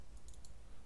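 A few sharp computer mouse clicks at close range while setting up a render in Toolbag, brief, light and crisp over a steady low background hum.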